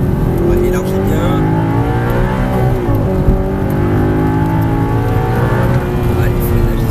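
An Audi R8 V8 laps the Circuit du Grand Sambuc, its engine loud and close with rising and falling revs through gear changes, while a voice talks over the roar.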